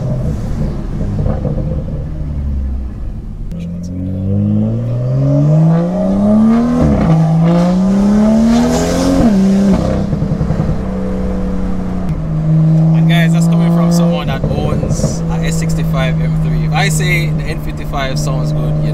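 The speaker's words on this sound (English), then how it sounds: "Because you hear the turbo whistle from the front and then the MPE on the back." Tuned BMW M2 on MHD Stage 2+ with MPE exhaust doing street pulls, a loud rising engine drone through several gear changes, a turbo whistle up front and exhaust note behind, with talking inside the car.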